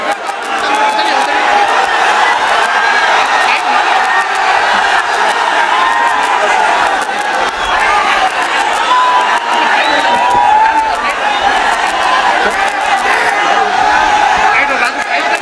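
A large, loud political rally crowd in Simanchal, Bihar chants slogans and cheers in unison, a dense, continuous wall of shouting voices with rhythmic surges and whoops from start to finish.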